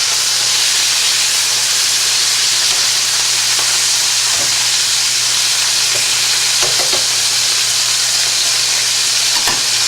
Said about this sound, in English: So I'm gonna set them on their sides, get that little side piece browned up.